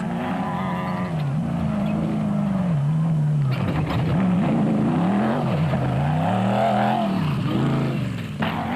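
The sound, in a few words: race car with 5.7 Corvette engine passing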